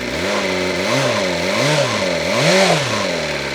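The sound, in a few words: motorcycle engine revving with a throttle blip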